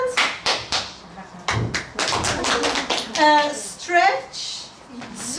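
Children clap their hands in a classroom action game, a run of sharp, close claps in bursts, with voices talking and calling out over them.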